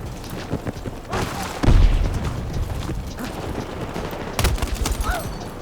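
A grenade explosion and bursts of gunfire in a first-person shooter, NVO-228E loadout, with a heavy boom near the middle followed by further shots and blasts, under occasional game noise.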